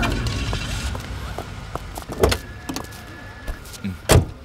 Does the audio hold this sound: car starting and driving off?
yes